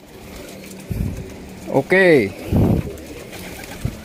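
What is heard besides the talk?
pigeons cooing, plosur breed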